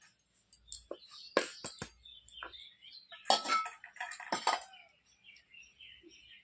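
Gram flour and arrowroot are mixed together in a bowl, heard as scattered close clinks and scrapes of a utensil against the bowl, separated by short quiet gaps.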